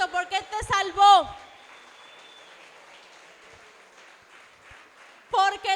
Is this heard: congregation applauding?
yes